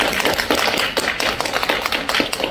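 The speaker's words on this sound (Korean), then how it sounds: "박수 한번." A crowd at a political party members' meeting applauds in steady, dense clapping that carries on evenly throughout without speech.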